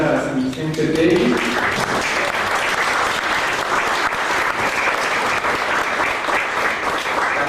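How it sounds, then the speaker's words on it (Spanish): Sustained applause from an audience at a panel talk on transgenic maize, a dense steady clatter of many hands lasting several seconds, with a voice briefly heard at the start. "Le damos un aplauso a Adelita San Vicente Tegui,"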